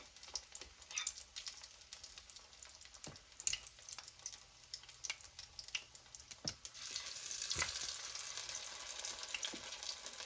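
Fish cake patties fry in hot grease in a pan, giving a steady crackling sizzle with scattered pops and spatters that swells louder in the last few seconds, with no voices.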